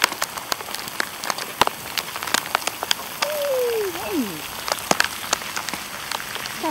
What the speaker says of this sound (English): And then the rain got more